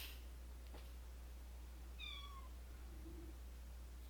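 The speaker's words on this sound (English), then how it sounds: "He's meowing." A single short, faint meow from a cat behind a closed office door rises once over a steady low hum, with a couple of softer chirps around it.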